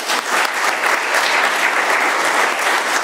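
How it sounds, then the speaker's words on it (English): Sustained applause from a recovery meeting audience honouring the guest speaker, a dense steady wash of many hands clapping at close range for the whole stretch, with no voices standing out. "Let's give our speaker one more round of applause."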